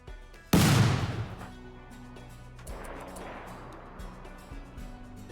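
Gunfire from mini slug turrets in the video game RimWorld: one loud, sharp burst stands out early and then decays into a lower rumble with scattered softer hits, with no talking.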